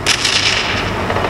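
Blasts from the PUBG Mobile battle game boom close and loud in a rough rolling burst of explosions, heavy and continuous, with no talking over them.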